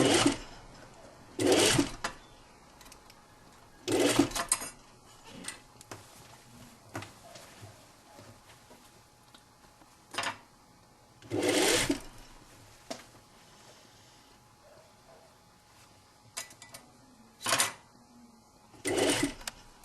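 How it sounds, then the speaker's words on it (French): A sewing machine overcasts a sleeve seam on a belted shirt-tunic, running in several short bursts of a second or so separated by quiet pauses with faint handling sounds between runs. "On va surfiler la manche"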